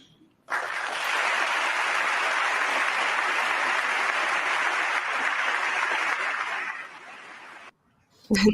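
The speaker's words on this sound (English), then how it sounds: "there you saw some intense applause, a standing ovation, prolonged applause" A large audience gives prolonged, intense applause as a standing ovation after a political speech, a dense steady wall of clapping lasting about seven seconds before cutting off.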